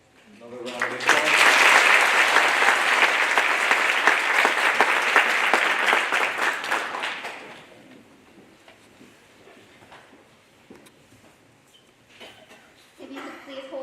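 Audience applause at an elementary school D.A.R.E. graduation, a dense burst of clapping that swells quickly, holds for about six seconds, then fades to a quiet room with faint murmuring and a brief stir near the end.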